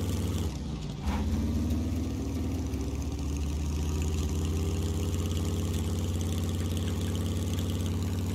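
Motorcycle engine in the survival video game SCUM runs steadily with a low droning hum, pitch rising slightly after a brief dip near the start, continuous and fairly loud with no talk.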